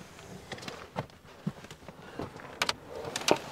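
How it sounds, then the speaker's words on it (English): A bed platform in a Nissan Xterra is pushed up on gas struts, making soft close clunks and thumps followed by sharper clicks and rattles near the end, with a faint background hum and no talking. "So at this point, I'll push up the bed platform."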